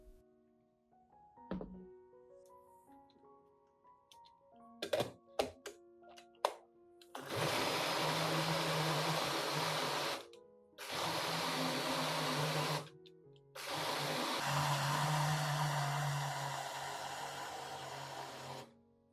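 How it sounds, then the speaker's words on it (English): A few clicks and knocks, then a blender blending potato peels with water whirs loudly in three long bursts separated by short pauses. "Close the blender lid and blend until the potato peels are fully mixed with the water"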